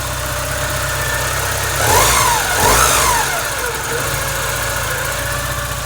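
Red 1986 Porsche 944 engine running just after starting, a steady close idle with two quick revs rising and falling in the middle before settling back.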